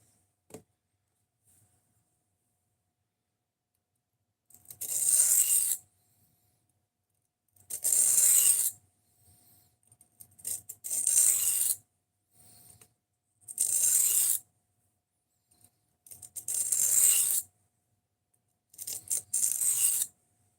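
A knife being sharpened on a brand new 150 and 600 grit whetstone, heard as a series of bright, gritty scraping strokes in short bursts separated by pauses, close and fairly loud against silence.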